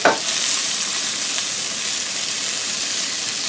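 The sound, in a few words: vegetables sizzling in a skillet on low heat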